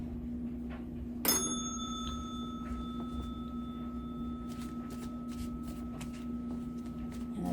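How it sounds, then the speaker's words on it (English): A single bell strike rings out sharply, its clear tones sustaining and slowly decaying over several seconds, followed by soft card-shuffling rustles. "And the sound of a bell."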